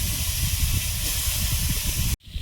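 Mango pieces hit hot oil flavoured with dried chilli and five-spice tempering, setting off a loud continuous sizzling hiss that cuts out abruptly near the end.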